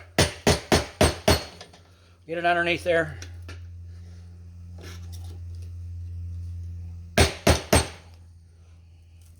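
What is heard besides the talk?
hammer tapping on battery terminal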